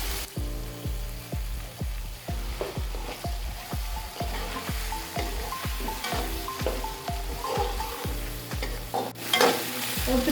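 Boiled chana dal being stirred into softened onions in a cooking pot, with a steady rhythmic scraping of the spoon repeating about twice a second over a soft sizzle, close and alone.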